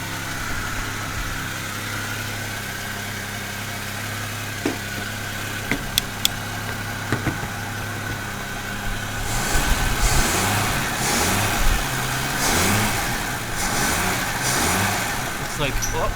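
A rebuilt Volvo 164 engine runs on its first start, a steady mid-pitched idle close by that grows rougher and louder partway through, with a few sharp clicks and voices talking over it.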